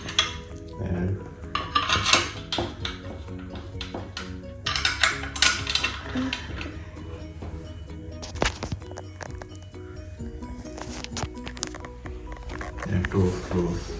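Screws and metal parts of a Flexson stand for a Sonos One surround speaker clink and rattle close by while the base plate is assembled, a run of small metallic knocks and jingles, with a person talking throughout.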